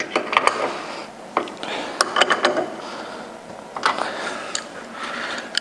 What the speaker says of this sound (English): make sure they're snug with a wrench.